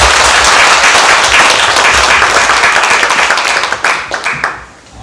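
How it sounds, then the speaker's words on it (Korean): A church congregation at a Sunday worship service claps loudly to welcome a missionary to the pulpit, a dense burst of applause that thins into scattered individual claps and fades near the end. "큰 박수로 축복하며 모시겠습니다."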